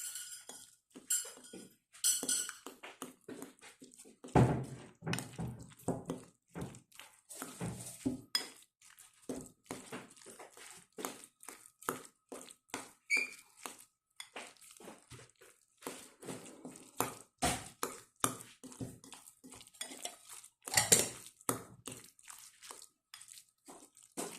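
A utensil stirs a cooking mixture of upo squash with miswa noodles and meatballs in a pot, producing repeated close clinks and scrapes in an uneven rhythm with brief pauses.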